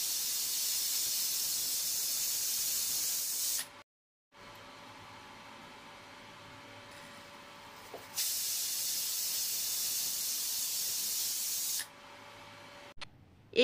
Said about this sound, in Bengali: আমি কয়েকটা সিটি লাগিয়ে নেব।